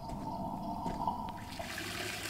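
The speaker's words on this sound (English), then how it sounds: "I just meant to flush." A toilet flushes in the horror game Dishwashing Simulator, a steady rushing gush of water running through the whole short stretch with no voices.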